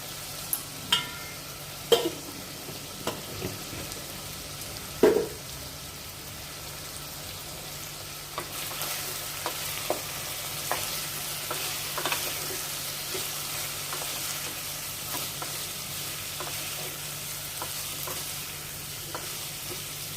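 Potatoes with poppy seed and chili frying, a continuous close sizzle that grows denser partway through, with a few scattered scrapes and clicks of stirring early on and no talk.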